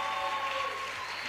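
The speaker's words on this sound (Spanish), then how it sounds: "¿cuánto le damos un aplauso a Héctor por esta palabra?" A church congregation applauds during a service, a steady wash of clapping that holds at an even level for its short length.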